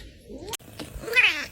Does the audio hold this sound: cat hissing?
yes